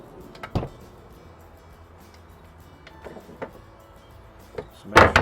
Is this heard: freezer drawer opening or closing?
yes